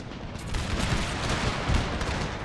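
Musket infantry volley fire in a Total War battle set in the Thirty Years' War, a continuous crackling fusillade of many muskets rolling together at moderate distance, no talking.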